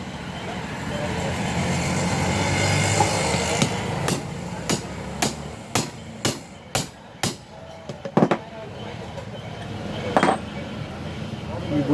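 A new bush is hammered into the base of a mixer grinder chutney jar during repair, giving a run of sharp metallic knocks, about eight to ten evenly spaced, over steady workshop background noise.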